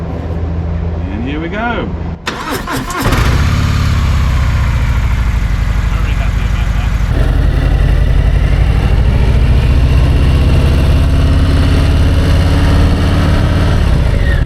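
A motorcycle fitted with a brand-new battery cranks briefly and fires up, then settles into a loud, steady idle close by. Someone speaks briefly just before it starts.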